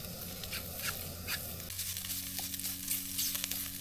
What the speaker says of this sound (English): I'm going to cook up that Spam